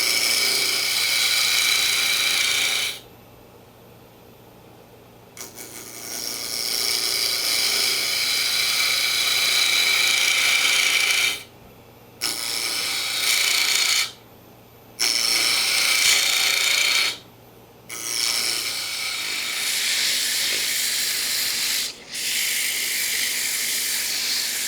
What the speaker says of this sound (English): We'll do a little sanding